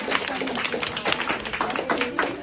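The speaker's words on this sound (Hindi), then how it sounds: "वेलकम कर रहे हैं तालियों के साथ।" Applause in a hospital welcoming a newborn, a steady patter of many hands clapping together, close and lively, with voices mixed in.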